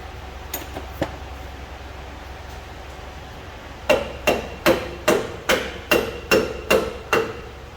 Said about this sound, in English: That's kind of the only time I'm going to be using hammers, like just kind of getting the final tap out.